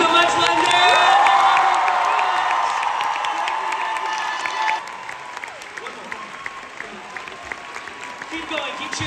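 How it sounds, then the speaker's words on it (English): A London audience cheers and applauds for Jonathan Van Ness, a loud, dense roar of clapping and whoops that swells early and then slowly thins. "Keep going, keep cheering, yes, give it up."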